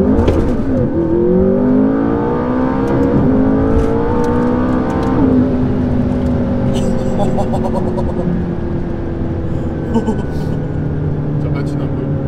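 A car with a V12 swapped into a 1.5-litre HDI chassis accelerates hard with wheelspin in first gear, its engine note climbing loud and close and then settling, while people talk over it.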